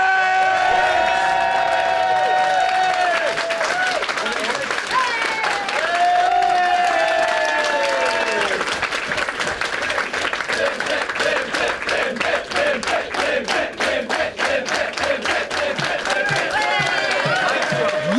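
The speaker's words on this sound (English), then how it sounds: "can we have a massive round of applause for your Bugglebots runners-up," Loud, sustained applause and cheering from a live audience for the runners-up at a robot-fighting competition grand final, with whoops and clapping building into dense rhythmic clapping toward the end.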